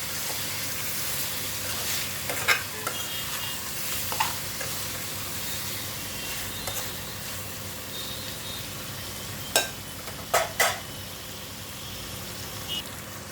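Spicy curry being stirred in a frying pan: a steady, moderate sizzle with occasional scraping clicks of the spoon against the pan.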